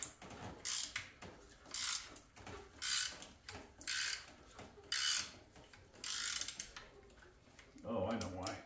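Ratchet wrench on a universal joint clicking in short repeated bursts while backing out a tight bolt during engine removal on a 1995 Camaro Z28, close and moderately loud, with a brief scraping rattle at the end.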